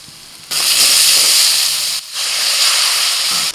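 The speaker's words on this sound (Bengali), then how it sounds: "আদা, রসুন, পেঁয়াজ ভেজে নিয়ে দিয়ে দিচ্ছি জিরের গুঁড়ো, হলুদ গুঁড়ো, কাশ্মীরি লঙ্কার গুঁড়ো, লবণ" Ginger, garlic, onion, ground cumin, turmeric, Kashmiri chili powder and salt frying in a pan, giving a loud, steady sizzling hiss in two long bursts separated by a brief pause.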